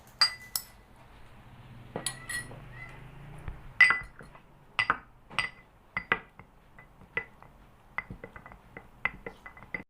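Cilok, a chewy tapioca snack, is mashed for a borax test, giving a string of sharp clinks and knocks against a glass or ceramic vessel, irregular and close, with quiet pauses and no talk.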